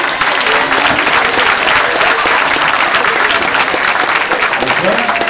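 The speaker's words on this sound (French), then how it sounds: "On l'appelle Willou, on l'applaudit." Audience applause at the Chante avec Lou 2015 concert evening, a loud, dense, sustained ovation from a full room that keeps a steady roar for the whole stretch.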